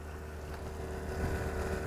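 A motorboat cruises steadily along a river in the Komi region, its engine a continuous low drone with wind rushing over the microphone and no talking.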